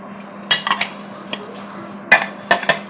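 A utensil clinks sharply against a pan in several quick clusters while fried onions and green chillies are mixed for garlic bharta, with quiet pauses between the scrapes.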